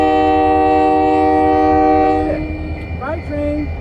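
A diesel train passing close by in Lompoc sounds a loud, sustained horn blast that fades as it moves away, and a voice speaks briefly near the end.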